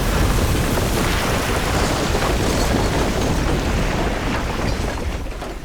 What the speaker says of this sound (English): the explosion rocked the whole bunker